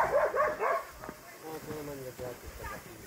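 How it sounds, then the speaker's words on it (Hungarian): Service dog gives a few quick, close yips and barks at the start, then a voice talks over quieter dog sounds. "Ő pedig a szolgálati kutya, a Tibi."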